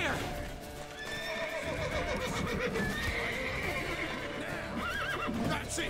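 Horse in The Witcher 3 whinnying with rising and falling neighs amid busy game sound, music and effects, with a voice talking over the noise.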